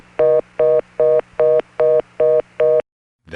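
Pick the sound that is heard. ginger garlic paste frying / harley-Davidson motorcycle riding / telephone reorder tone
telephone reorder tone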